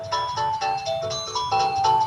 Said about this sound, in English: And you're getting a phone call.